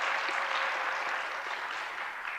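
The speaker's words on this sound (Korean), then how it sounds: "박수 한번 치죠" A congregation at a Daegu church gathering breaks into sustained applause, a thick, continuous wash of clapping from many people that holds steady and eases slightly toward the end.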